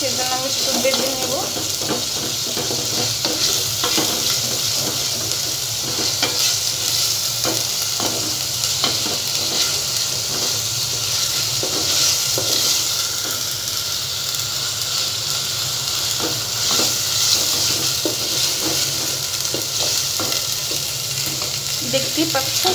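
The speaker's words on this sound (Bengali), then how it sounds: "যাতে রসুন আর আদার যে গন্ধটা আছে সেটা আর করবে না, সেজন্য আমি একটু বেজে নেব।" Garlic and ginger fry and sizzle in a pan, a steady hiss with intermittent stirring scrapes throughout, the cooking noise continuous and fairly close.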